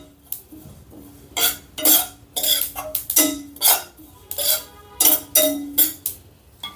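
Sesame seeds, two tablespoons, roast in a pan until they crackle, giving repeated bursts of dry clinking and stirring, about a dozen loud close scrapes and rattles spaced at an uneven rhythm.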